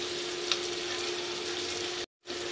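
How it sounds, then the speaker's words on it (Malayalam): Onion and garlic frying in a pan for a Kerala fish curry with kudampuli, a steady close sizzle with a brief sharp crackle, cut by a moment of silence near the end. "സവാള, വെളുത്തുള്ളി എല്ലാം കൂടി ഇട്ട് മൂപ്പിക്കാൻ പോവാം"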